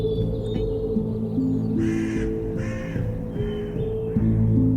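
Crows or ravens caw repeatedly in a video game horror mod, harsh calls coming in several bursts over a steady droning ambient background, with no talking.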